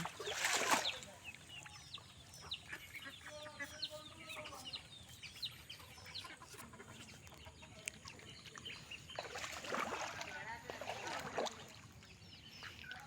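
Ducklings calling in flood water around a rural home in Bogura, Bangladesh, a scatter of faint high peeping and chirps over a soft background, with a few louder splashy bursts.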